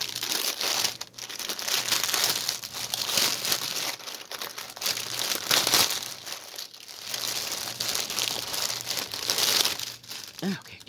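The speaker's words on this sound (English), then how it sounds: "get rid of the crinkle papers" Crinkle paper packing is pulled and crumpled out of a plastic bag from a pre-stamped cross stitch kit, a steady close rustling and crackling that runs for about eleven seconds with brief pauses.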